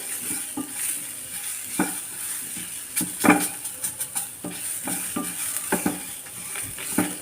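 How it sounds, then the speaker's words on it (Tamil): Grated coconut roasting dry in a pan for Mangalore fish curry, a soft steady crackle with light scraping and stirring clicks of a utensil against the pan, close and fairly quiet. "தேங்காய் மட்டும் கொஞ்சம் வறுத்துக்கிடுவோம்"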